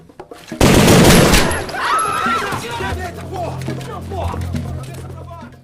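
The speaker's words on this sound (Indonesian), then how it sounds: "Tanpa pikir panjang, Nascimento langsung memberikan komando untuk menembak." Gunfire from the film Elite Squad (2007), a sudden loud burst of rapid shots up close, followed by a noisy scene with shouting voices and scattered sounds.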